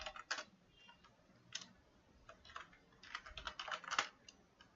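Keys tapped on a computer keyboard while code is entered, irregular bursts of close, crisp clicks with short pauses between runs, no talking.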